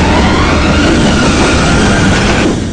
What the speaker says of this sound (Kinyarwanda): gari ya moshi irimo iraza